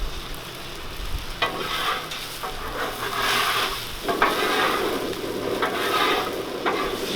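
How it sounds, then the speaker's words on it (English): An egg frying on a hot griddle for breakfast burritos, a loud, continuous close sizzle with crackling bursts and occasional scraping. "Cooking just a little bit faster than I like to on my egg"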